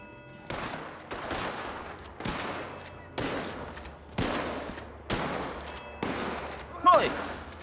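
Seven or eight evenly spaced gunshots ring out as warning fire, each a sharp crack with a short echoing tail, moderately distant, with a faint voice near the end.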